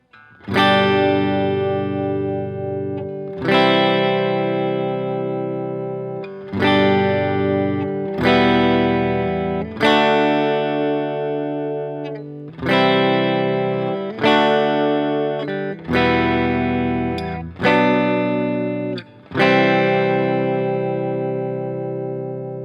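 An electric guitar with distortion and effects strums a slow chord progression, each chord ringing for a couple of seconds before the next change, loud and alone.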